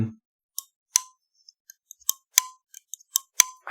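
A series of sharp metallic clicks and snaps from a Richard Rogers Slim Utility pocket knife mechanism, irregular and close, with brief ringing tones after some of them, separated by silence.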